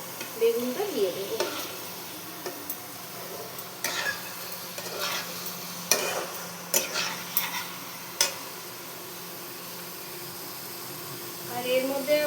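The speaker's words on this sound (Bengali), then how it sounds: "সর্ষে পোস্ত বাটাটা দিয়ে আমি একটু ভাজা ভাজা করে নেব।" Mustard and poppy seed paste fries in a pan, giving a continuous soft sizzle broken by sharp scraping strokes of a stirring spoon, with a voice briefly heard at the start and end.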